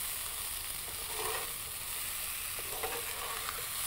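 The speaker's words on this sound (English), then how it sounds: "Oh, hear that sizzle." Butternut squash cubes sizzle steadily in a hot pan as they are gently stirred, a continuous close frying hiss with a few soft scraping stirs and no talking.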